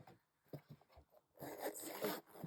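Zipper on a Hobonichi pouch being opened: a few short, quiet rasping pulls followed by a longer continuous zip, close and faint, with no talking.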